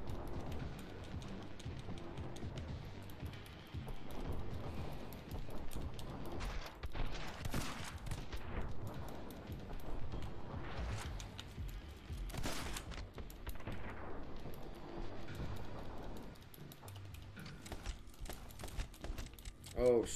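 Video game gunfire comes in rapid bursts mixed with mechanical clicking and rattling, all over a steady background of game sound.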